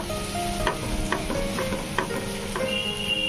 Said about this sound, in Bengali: আমি পেঁয়াজগুলোর মাছের তলা থেকে টেনে নিচ্ছি